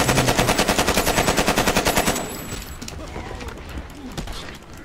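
Rapid machine gun fire in the video game Hand of Fate 2, a loud, even burst of shots for about two seconds before it stops and quieter game sounds carry on.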